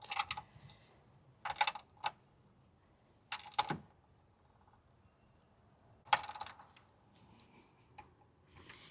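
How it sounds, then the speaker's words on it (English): A ratchet tightens a hood strut bolt on a Jeep Wrangler JL in short bursts of quick clicking, close and fairly quiet, with pauses between the bursts and no talking. "then I can use the ratchet while pressing on this, tighten it back up"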